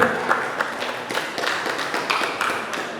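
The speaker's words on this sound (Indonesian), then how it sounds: "Tepuk tangan buat semuanya." Audience applause at an Indonesian village literature podcast event, a steady patter of clapping hands across the whole stretch with some louder bursts, fairly close and continuous.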